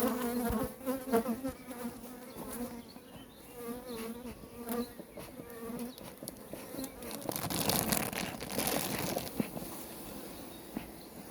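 Honeybees buzzing in an opened hive, a close, continuous droning hum that swells and thickens toward the end, with no talk over it.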